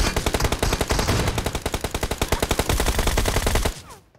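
Rapid automatic gunfire from a shooter video game, a steady burst of evenly spaced loud shots running for several seconds before stopping abruptly.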